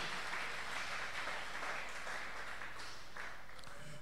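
Congregation applauding during a church service, a steady broadband wash of many hands clapping at moderate distance, continuous for a few seconds without a break.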